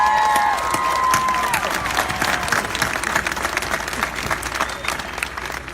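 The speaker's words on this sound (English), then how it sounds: "Give yourselves a round of applause." A large crowd at a pro-life rally bursts into loud, sustained applause with scattered cheers, the clapping dense at first and slowly thinning toward the end.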